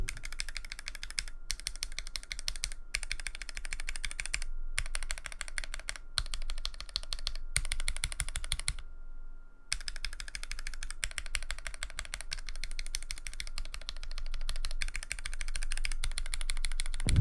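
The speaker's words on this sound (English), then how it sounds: "Here's a quick comparison of the switches stock and lubed" Akko CS Jelly mechanical keyboard switches typed in steady bursts, first stock and then lubed, giving close, dense clacky keystrokes with short pauses between runs.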